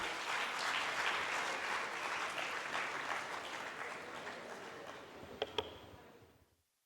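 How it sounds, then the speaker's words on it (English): Audience applause for prize winners at an All India Brahmo Conference session in Hyderabad, a sustained crowd clapping that fades gradually over several seconds, with two sharp louder claps near the end before it stops. "Give a big round of applause to all the top winners."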